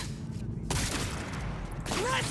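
Loud video-game gunfire from Cyberpunk 2077 crackles in rapid broadband volleys, one sustained burst early on, a short lull, then another barrage near the end, with a voice speaking briefly in between.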